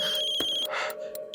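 A phone rings with a steady electronic tone that is broken by short pauses, loud and close in a brief moment with no talking.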